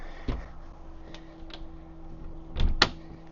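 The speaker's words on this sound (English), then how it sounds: "Close the door behind you." The head compartment door on a 2023 Sportsman 282 center console boat is slid shut, a few light clicks and scrapes followed by a firmer thud near the end, close and moderately loud over a low steady hum.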